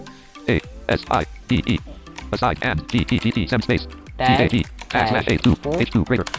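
Typing on a computer keyboard while coding HTML, brisk clicking keystrokes mixed in under someone speaking almost continuously nearby.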